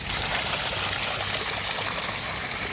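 Steady broadband rush of a waterfall swollen with rain, a loud continuous roar of flowing water close by with no breaks and no voices.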